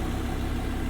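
A 2017 Audi R8 V10+ with its 5.2 liter V10 idles in a steady, smooth low rumble, close and continuous for just under a second with no voices.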